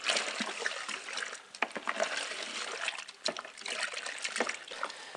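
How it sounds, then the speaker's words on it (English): Cold water pouring steadily into a homebrew fermenter to top it up to 23 litres, a continuous close trickling and splashing stream with no talk. "then we're going to top it up with cold water to 23 litres"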